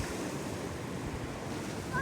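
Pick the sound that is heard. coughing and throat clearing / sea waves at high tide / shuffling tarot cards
sea waves at high tide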